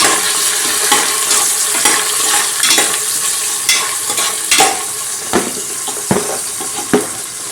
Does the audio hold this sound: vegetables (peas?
yes